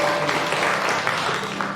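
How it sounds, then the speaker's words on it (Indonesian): A church congregation at a worship service claps and cheers together in a dense, steady burst of applause, fairly loud and brief. "Beri sorak-sorak sekali lagi."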